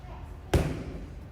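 A single sharp impact of a Muay Thai reverse elbow strike slamming into a training pad, one loud close thud midway through, with room noise around it.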